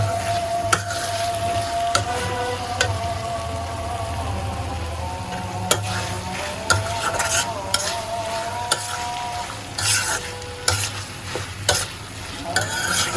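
Chicken and vegetable roll filling thickened with cornflour is stirred in a frying pan, a loud ongoing sizzle broken by repeated sharp scrapes and clinks of the spatula against the pan, with no voices.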